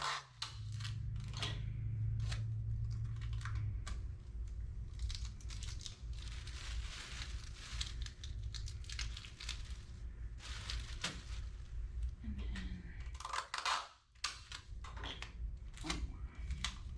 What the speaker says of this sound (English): Tape it to that one, and then we're going to tape the inside.